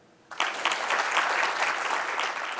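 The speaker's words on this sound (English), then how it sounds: "Okay, clap again." A lecture audience clapping again on request, applause bursting in abruptly after a brief quiet moment and continuing as a dense, even wash of many hands.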